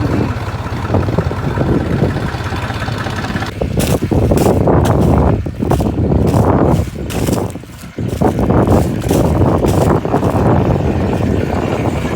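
Loud, strong wind in an open field during a potato harvest, buffeting the microphone, roaring steadily with gusty bursts and rumbling thumps throughout.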